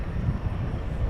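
An American Airlines Boeing 777-300ER lines up on the runway at DFW at night, its engines giving a steady low rumble with no talk over it.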